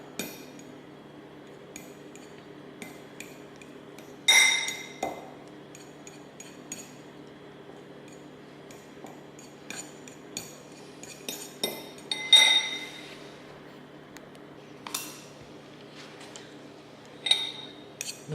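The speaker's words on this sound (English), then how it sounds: "And then I'm going to use a fork to crumble them up." A fork works through hard-boiled egg yolks in a bowl, making sparse clinks and taps against the dish with a few sharper metallic knocks over a quiet background.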